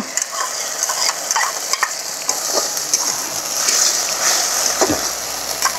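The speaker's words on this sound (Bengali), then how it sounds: "পেঁয়াজটা একটু ভালো করে ভেজে নিচ্ছি।" Onion frying in oil in a pan for a pointed-gourd dolma dish, a loud continuous sizzle with bursts of crackle and stirring scrapes, close up and without talk.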